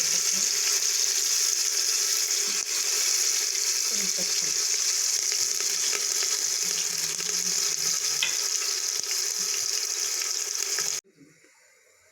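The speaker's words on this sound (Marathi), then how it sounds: "जिरे मोहरी टाकून घेऊया" Cumin and mustard seeds sizzling in hot oil as the tempering for khichdi, a loud, steady hiss and crackle close by that stops abruptly near the end, with no speech.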